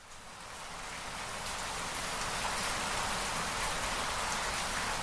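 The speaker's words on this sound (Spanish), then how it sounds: "Una suave lluvia golpeaba los techos de teja de la Nueva España." Gentle, steady rain falls on tile roofs, a dense, even hiss of drops that swells in over the first second and then holds constant, with no voices.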